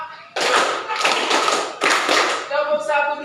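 Close, loud clapping in a group counting exercise comes in a few dense bursts of rapid claps separated by short pauses, and a voice starts speaking at the end.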